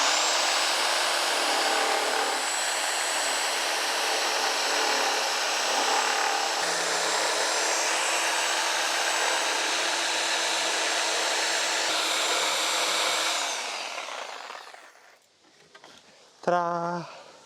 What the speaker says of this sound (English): So I've just got a Sawzall. I'm going to go right up against this queen stud and just cut this out.